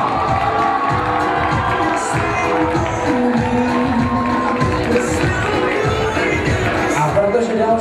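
Crowd applause and cheering fill a graduation ball ribbon ceremony at Parkhotel Plzeň, loud and continuous clapping with shouts and whoops rising over it, and voices mixed into the noise.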